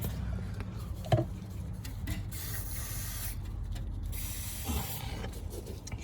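Penetrating spray hisses onto bolts by the axle housing of a Land Rover Discovery 2 during a ball joint replacement, in two short close bursts with light clicks and handling noise between them.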